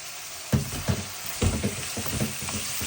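Potatoes and peas frying in a hot pan with onions for beef rolls: a steady close sizzle with repeated thumps and scrapes as the vegetables are stirred, no voices.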